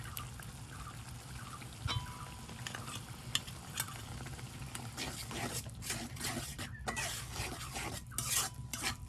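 Dry spices stirred into hot oil in a pot over a clay stove, a steady soft frying hiss with scraping stir strokes and occasional clinks, fairly close and moderate in level, no talk.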